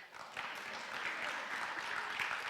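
An audience applauds event sponsors at a school-district parent education talk in Davis, a dense, even wash of clapping that holds steady throughout with no talking over it.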